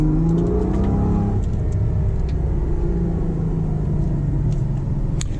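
A Ferrari V12 engine rumbles and revs up, a loud sustained roar that rises then settles into a steady drone.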